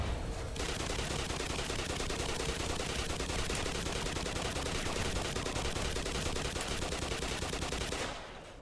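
Rapid sustained gunfire in the video game Black Mesa, a dense continuous burst of shots lasting several seconds before cutting off abruptly, loud and without talk.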